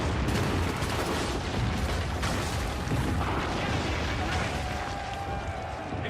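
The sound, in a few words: artillery fire in the video game Assassin's Creed 3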